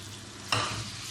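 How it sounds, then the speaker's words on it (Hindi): Chicken pieces fry in a pan under a soft continuous sizzle, with one brief scraping stir midway, faint and close with no voices. "अब इसको 5 से 10 मिनट तक अच्छी तरह भूनेंगे।"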